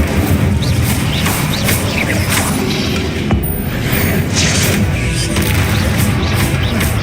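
Fire spell blasts from the game Hogwarts Legacy, a loud, dense barrage of booming, crackling magical impacts layered with other spell effects, continuous and heavy throughout with sharp bursts scattered across it.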